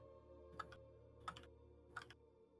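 Computer keyboard tapping, three short bursts of quick clicky keystrokes spaced evenly, faint and close over a low steady hum.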